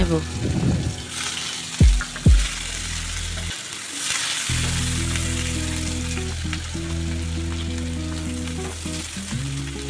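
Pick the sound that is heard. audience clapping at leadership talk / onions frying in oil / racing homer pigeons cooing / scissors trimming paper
onions frying in oil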